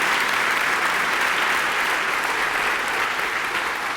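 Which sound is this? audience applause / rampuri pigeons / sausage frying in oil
audience applause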